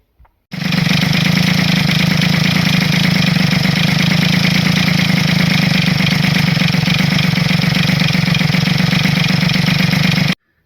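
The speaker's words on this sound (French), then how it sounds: "je finis d'assembler, et je vous fais un petit démarrage" A rebuilt small engine fires up and settles into a loud, steady idle with a rapid knocking pulse, running evenly for about ten seconds before cutting off abruptly.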